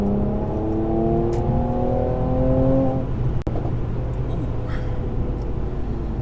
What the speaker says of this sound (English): I hope you can hear those pops and crackles on the video.